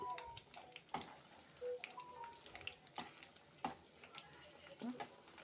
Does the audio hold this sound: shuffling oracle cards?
no